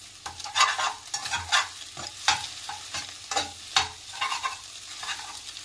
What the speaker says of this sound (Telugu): బాగా ఫ్రై అవ్వాలి గుడ్డు.